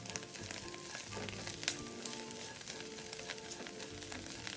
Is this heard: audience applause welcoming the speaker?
no